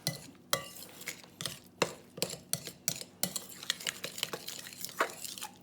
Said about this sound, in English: I'm using a knife because a butter knife helps you cut through it and mix it really well